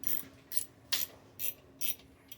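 Ratchet tightening bolts with a 10mm deep socket while changing a lowrider hydraulic pump motor, five or six short clicking bursts in a steady rhythm, close and clear.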